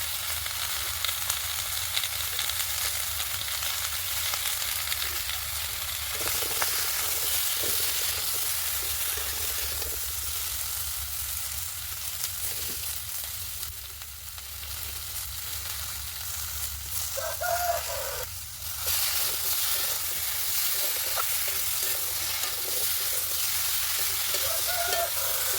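Vegetables frying in a pan with turmeric and salt for a fish and eggplant-potato curry, a continuous close sizzle and hiss with occasional stirring scrapes, no voices.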